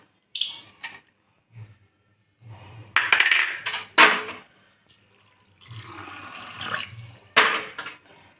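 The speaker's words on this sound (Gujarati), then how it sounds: "2-3 વખત ધોઈ વાઈટ પાણી નીકળી જાય ત્યાર સુધી ધોઈ દઈશું" Sago pearls (sabudana), two bowls' worth, are rinsed by hand in water, giving bursts of splashing and sloshing separated by quiet pauses, some short and some lasting a second or more.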